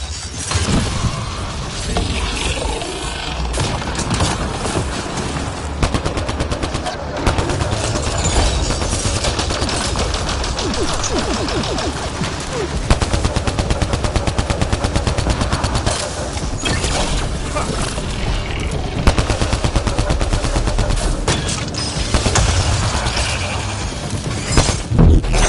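Constant, loud video game gunfire from Mass Effect Andromeda, with rapid automatic bursts and shattering impacts, runs without a break while voices shout over the action.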